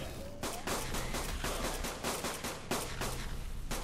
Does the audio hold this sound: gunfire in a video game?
yes